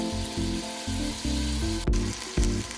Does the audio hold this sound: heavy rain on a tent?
no